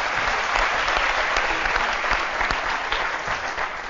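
A television show audience bursts into loud, dense applause that carries on without a break from start to finish, close and full, with no talk over it.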